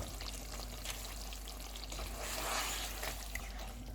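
Cream and butter pour into a pan of lemon pepper chicken with green chilies and coriander over a lowered flame, giving a soft, brief hiss and trickle that swells midway and then settles.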